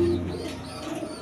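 Red fancy pigeons coo softly at close range, a brief low rolling call without any talk.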